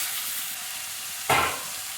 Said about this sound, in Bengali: আদা বাটা নুন দিয়ে এটা ভালো করে একটু নেড়ে নিচ্ছি